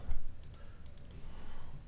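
Soft, quick mouse clicks from working with a multi-cut tool in 3D modeling software tap several times in a light, irregular rhythm, close and quiet against faint room noise.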